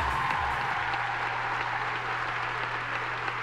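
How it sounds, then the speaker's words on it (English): A crowd applauds Boyd Exell after his run at the Windsor driving event, with steady dense clapping throughout at even loudness and a low steady hum beneath. "Give that man a round of applause"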